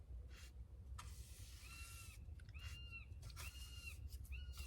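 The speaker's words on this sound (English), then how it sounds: "Can you hear that buzzard getting on my wick?" A buzzard calls repeatedly over a garden, giving four drawn-out, falling mewing cries at moderate distance above a steady wash of road noise.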